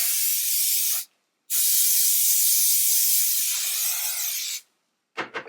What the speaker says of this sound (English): Just gonna spray this literally all over the hair I've already done.